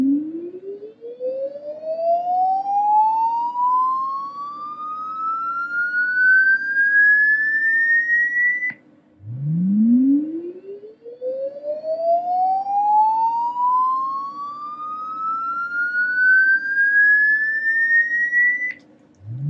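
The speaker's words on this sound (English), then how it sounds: "what does it sound like if I hit this button here to sweep?" A Wavetek 288 function generator sweeps a pure tone upward from low to high pitch, rising steadily over about nine seconds, dropping abruptly and repeating the same climbing sweep a second time, loud and alone with a faint hum beneath.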